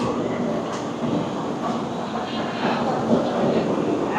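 The 15961 Kamrup Express pulls out of Bandel Junction, a loud steady rumble of wheels and carriage noise with faint rattles rising slightly toward the end, heard from on board.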